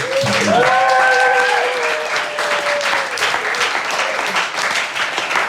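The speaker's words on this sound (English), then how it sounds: "Can we have a big round of applause for it?" A comedy show audience breaks into loud, sustained applause, thick clapping that stays strong throughout, with a brief vocal cheer or whoop rising near the start.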